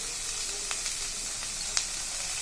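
Close, steady sizzling of beans and peanut stir-fry in a hot pan as chili powder is added, a continuous hiss with a few faint crackles and no talking.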